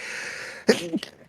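A quick, forceful sneeze cuts through a steady background hiss, followed by a brief breathy aftersound.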